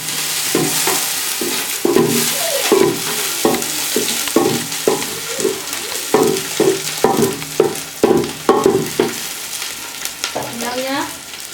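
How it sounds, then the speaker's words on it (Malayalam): Onion, garlic and green chili fry and sizzle in ghee while a spoon stirs the pan in steady repeated scrapes and clatters. A constant hiss runs underneath. "അപ്പം അതിനുള്ള നമ്മൾ സവോള അടുത്തിടാം വെളുത്തുള്ളി അടുത്തിടാം നമുക്ക് പച്ചമുളക് അടുത്തിടാം നമുക്ക് നെയ്ത്തിട്ട് ഇളക്കി കൊടുക്കാം"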